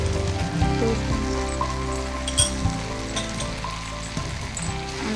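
Soy sauce sizzling in a hot pan for spring pasta, a steady close hiss with faint crackle that persists throughout, under low kitchen hum and a brief clink.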